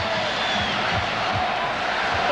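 A basketball arena crowd at an NBA Finals game between the Chicago Bulls and Portland Trail Blazers, a steady broad roar of cheering and murmur that holds throughout with a few whoops above it.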